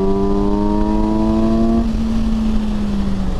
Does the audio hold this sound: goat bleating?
no